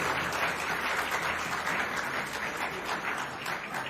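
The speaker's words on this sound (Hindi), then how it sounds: "इनके लिए तालियां बजानी चाहिए।" An audience at a university bait bazi poetry contest held at a fun gala applauds the teams on stage, with a continuous, even wash of many hands clapping at steady volume.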